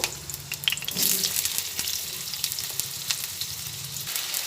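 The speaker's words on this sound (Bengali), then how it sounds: "তেলের মধ্যে আমি আলু দিয়ে দিচ্ছি আলু ভেজে নেব" Potatoes fry in hot oil with a constant bright sizzle and crackle, close and steady, with a few light knocks of stirring in a home kitchen.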